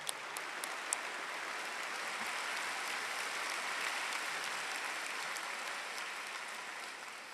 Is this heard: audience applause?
yes